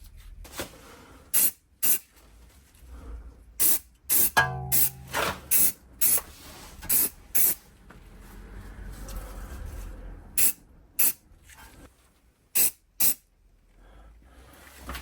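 Short hissing bursts of dye penetrant sprayed from an aerosol can onto a Range Rover suspension knuckle, about a dozen quick spurts in uneven clusters, close and fairly loud, with faint handling noises between.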